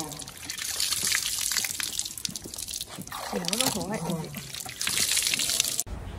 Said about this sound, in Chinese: 我们挖出来之后再压点井水，把上面的泥巴冲洗干净